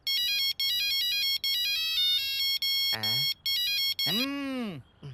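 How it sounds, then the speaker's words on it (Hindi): Mobile phone ringtone: a bright electronic melody of repeated chiming tones in short bursts, followed by swooping sweeping tones near the end, loud and close with brief gaps between phrases. "फोन भी तभी बजता है"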